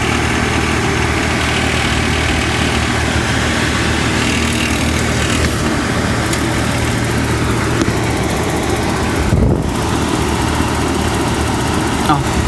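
Household furnace running with a steady broadband mechanical roar and a persistent rattle, a brief louder clunk near the end, with talk at times over the noise.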